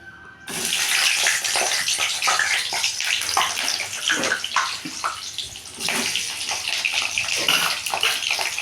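Pointed gourd (potol) drops into hot oil, setting off a sudden loud sizzle that holds as a steady, bubbling hiss close by.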